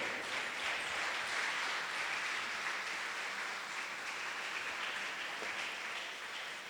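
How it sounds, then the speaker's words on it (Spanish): Church congregation applauds during a pastor's sermon, a dense, even roar of many hands clapping that holds steady and fades slightly at the end, with no talking. "Denle un fuerte aplauso al Señor."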